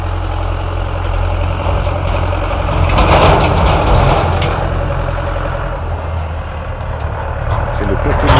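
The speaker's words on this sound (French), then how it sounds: "On va regarder le tracteur passer." A tractor hauling the village waste container idles and passes nearby, its heavy low engine rumble steady and moderately loud, swelling slightly midway, with a person talking over it.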